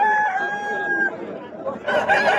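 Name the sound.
rooster crowing at a cockfight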